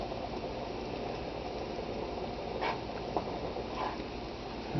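Homemade chili simmers and gets stirred in the pot, a steady close bubbling, slurping texture with a few soft scrapes of the spoon against the side.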